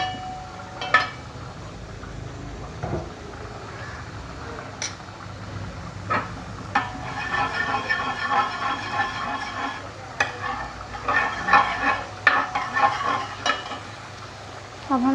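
Ginger garlic paste sautéing in a pan for achari chicken masala, a continuous sizzle and fry with repeated scraping stirs and sharp clinks of the spatula against the pan.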